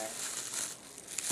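A plastic bag being cut and crinkled while making a paper squishy, producing soft, close crackling and rustling that runs continuously at low volume.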